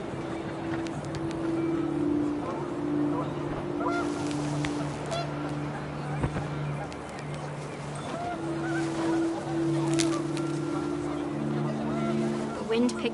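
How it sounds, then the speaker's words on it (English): Panicked geese honking repeatedly in the video game What Remains of Edith Finch, a chorus of calls rising and fading over steady wind and low rumbling background noise. "The wind picked up, and panicked geese appeared and quickly went."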